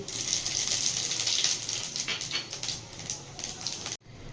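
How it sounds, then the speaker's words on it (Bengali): A dried red chilli and panch phoron spices crackle in hot oil in a kadai after fish has been fried in it. The sizzle is soft and continuous with fine popping, and it is heard alone. "ওই তেলের মধ্যে ফোড়নে দিয়ে দেব একটা শুকনো লঙ্কা আর পাঁচ ফোড়ন"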